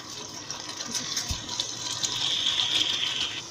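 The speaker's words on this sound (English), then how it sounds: "So you add hot water into your soup." Hot water gushes steadily into a pot of fresh tilapia fish soup, a continuous splashing pour that grows slightly louder, with a soft clunk partway through.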